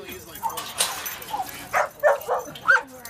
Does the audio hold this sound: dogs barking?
yes